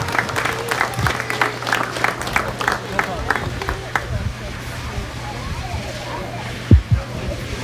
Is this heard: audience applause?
yes